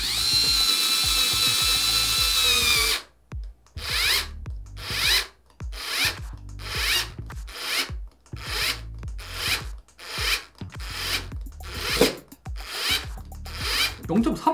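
A Wowstick electric screwdriver drives a screw with a steady whir, then breaks into a series of short bursts and pauses with faint ratcheting clicks, close by, and a voice speaks briefly over it.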